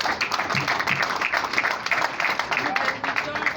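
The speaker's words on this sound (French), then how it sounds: "applaudissez la signature du premier témoin" Guests applaud the first witness signing the register at a civil wedding, a dense run of clapping with voices mixed in.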